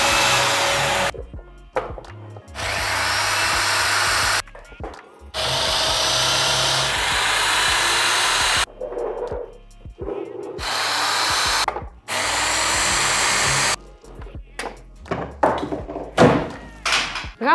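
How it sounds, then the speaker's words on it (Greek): A power drill whines in several sustained bursts while drilling into a wall for a gallery wall, separated by short pauses with thunks and handling noise, close and loud. "Μήπως το βάλεις με τον drill."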